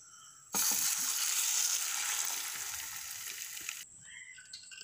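Banana cake batter poured into a hot ghee-coated pan sets off a sudden loud hiss that holds steady for about three seconds, then drops back to a faint crackle.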